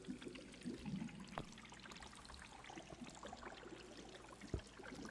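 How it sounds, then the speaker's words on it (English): Water pouring and trickling through an underground area in a video game, a faint, steady, splashy stream with a couple of soft knocks and no talking. "Why is there so much water?"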